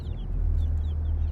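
Black Australorp chickens cluck softly in a backyard, with a few short calls over a loud, steady low rumble of background noise; no one speaks.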